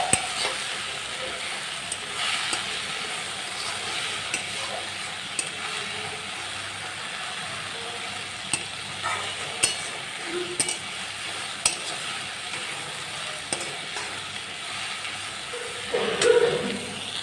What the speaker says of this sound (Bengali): লবণটা দিয়ে দেওয়ার পর আর একটু সামান্য নেড়ে লবণটা পুরো শাকের গায়ে ভালো করে মিশিয়ে নেব।